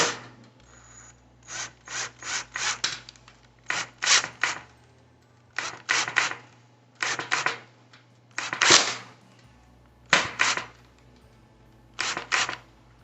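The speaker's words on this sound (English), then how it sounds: "and this is just a pre-drill." Short bursts of a power drill pre-drilling pilot holes into the wood of a bathroom vanity base, a dozen or so rasping spurts of a second or less each, evenly spaced and fairly close, with a faint steady hum between them.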